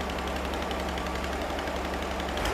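A rebuilt Volkswagen engine assembled from used parts runs without throttle, a quiet, even chugging of rapid low pulses with no voices.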